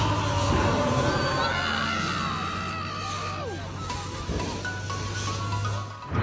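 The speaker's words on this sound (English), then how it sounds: "This shark ride is something else, and it almost sounds like it's the shark that's screaming." Crowd of riders screaming and yelling together on a shark-themed amusement ride, a loud continuous wash of shrieks with a low steady mechanical hum underneath.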